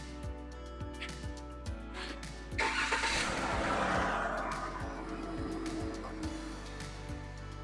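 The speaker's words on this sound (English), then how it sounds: "As the engine started" A car engine cranks and catches, starting with a sudden surge at close range and then settling into a steady idle hum. Faint clicks run through the clip.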